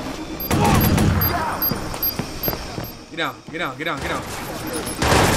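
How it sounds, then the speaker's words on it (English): Light machine gun fire in the video game Watch Dogs, rapid loud bursts of automatic shots with a short pause, close and punchy, while a voice shouts over the action. "I can shoot through walls and stuff with this light machine gun."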